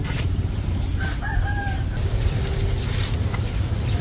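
A rooster crows from a distance, a wavering cry heard through a loud, steady background rumble.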